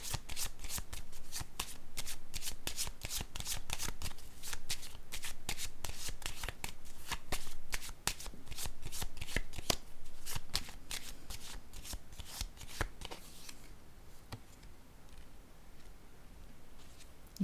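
A deck of tarot cards is shuffled close up in a long, dense riffle of rapid flicks, then the cards are set down with softer taps as the shuffling fades.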